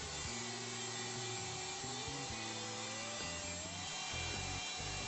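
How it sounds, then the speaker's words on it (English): A router cuts a dovetail pinboard held in a clamped jig, a steady high-pitched whine with a slowly rising tone and shifting lower hum as the bit works through the wood, continuous and fairly close with no talking. "With the jig clamped in place, the pinboard is routed."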